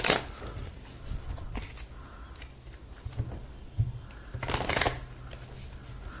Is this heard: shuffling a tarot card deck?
yes